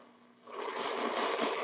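Radio receiver hiss swelling up as the volume is raised, a soft broadband static rising from near silence and holding steady, faint and close.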